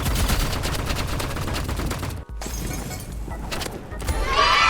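Gunfire in the video game Rivals: fast repeated shots in a loud rapid stream, a sudden brief cutout, then further shots and game effects to the end, with no talk.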